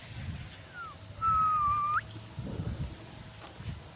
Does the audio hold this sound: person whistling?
yes